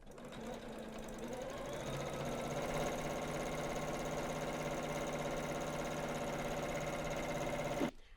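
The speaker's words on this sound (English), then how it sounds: "Now we're going to top stitch down the other edge" A Janome sewing machine topstitches along the edge of a fabric bag with a 1/4 inch seam allowance, a steady, close, rapid mechanical whirr that holds constant before stopping abruptly.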